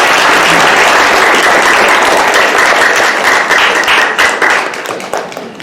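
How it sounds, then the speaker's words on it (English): An audience breaks into loud, dense applause that holds steady, then thins into scattered claps as it fades at the end. "Now this would be an appropriate time to clap if you are not in attendance."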